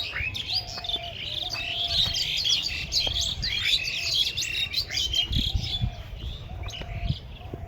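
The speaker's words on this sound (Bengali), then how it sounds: "পাখির কিচিরমিচির ডাকগুলো শুনছেন" Many birds chirp and tweet outdoors in a town area with cattle nearby, rapid overlapping calls repeating throughout over a low background rumble.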